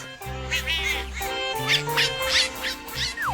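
Newly hatched yellow ducklings in a children's cartoon story give a series of short, high, bright quacks and peeps, repeated close by over a soft music bed.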